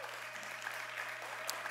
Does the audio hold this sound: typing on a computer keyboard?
no